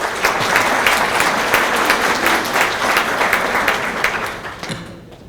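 Audience at a Mexican forum on personal data protection in justice and security breaks into loud, sustained applause for a speaker from the Federal Police, dense and steady before fading out at the end.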